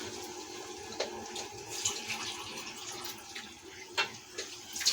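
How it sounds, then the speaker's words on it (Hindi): Water is poured from a big cup into a pot of simmering chicken nihari, a soft steady splashing pour with a few small bubbling pops, faint and close, no talking. "ये देखें 1 बड़ा कप है ये पानी का, हम डालेंगे ये इस तरीके से"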